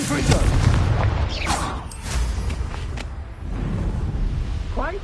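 A Confringo blasting spell goes off in a video game, a heavy booming explosion with rumbling low-end debris and crackle, followed by a second blast and fainter game noises, with a voice calling out over it.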